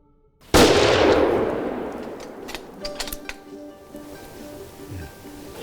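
A single loud rifle shot cracks out during an African hunt and booms and rolls away over several seconds, followed by faint scattered clicks and rustles.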